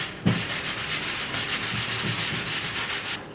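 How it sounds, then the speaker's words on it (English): Sandpaper rubbing along the edges of a wooden block in quick, even back-and-forth strokes, close and steady after a sharp initial knock. "sand all of the edges, the front corners, edges, and then lightly"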